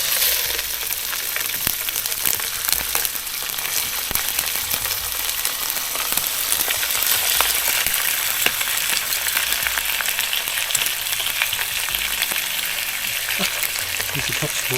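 Bacon frying in a pan on a Trangia 25 Duossal alcohol stove, a loud, continuous close-up sizzle and crackle of spitting fat with faint scraping, and no voices over it.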